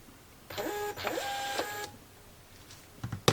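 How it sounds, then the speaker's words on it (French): A label printer prints a label with a steady mechanical whir and feed stepping for over a second, then falls quiet before a few soft clicks and handling knocks, close by. "Je vais aller sur imprimer. Hop, imprimer."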